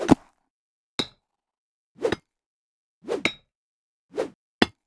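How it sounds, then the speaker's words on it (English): Six sharp, dull synthesized impacts of a hammer striking dirt, spaced about a second apart, each a quick thud with a brief metallic edge, close and isolated. "So essentially a hammer"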